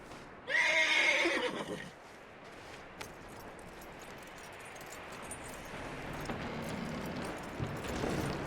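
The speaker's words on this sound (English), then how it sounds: "That looks like a decent horse." A horse in Red Dead Redemption II gives one loud, close whinny near the start, then quiet ambient game noise with faint hoof clops follows.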